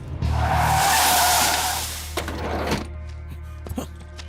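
A car skids to a stop with a loud tire squeal lasting about two seconds, followed by a low idling rumble and a few faint knocks and rustles.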